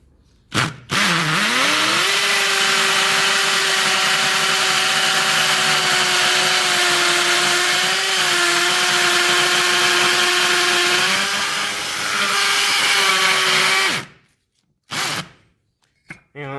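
An Ozito 18V brushless hammer drill with a 5mm bit bores into a brick in one long, loud continuous whine lasting about twelve seconds, then stops, followed by a few short clunks.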